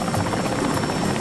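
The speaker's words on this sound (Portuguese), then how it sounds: "o helicóptero decola de Santa Ana." Helicopter taking off from Santa Ana, heard as a steady, dense rotor and engine drone with a fast pulsing chop, moderately loud and continuous, with no voices.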